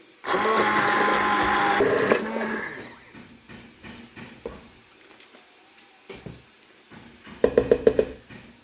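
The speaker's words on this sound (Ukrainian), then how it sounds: "ці спеції я відправляю до слив і перебиваю погружним блендером" A handheld immersion blender whirs loudly through plums and spices for about two seconds, then stops, followed by scattered clicks and knocks and a few short buzzing pulses near the end.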